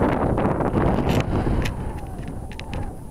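Wind gusts buffet the microphone with low rumbling blasts on high ground above a river floodplain, easing off partway through, with faint passing vehicle noise in the distance.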